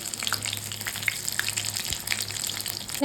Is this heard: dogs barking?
no